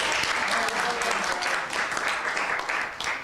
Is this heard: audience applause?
yes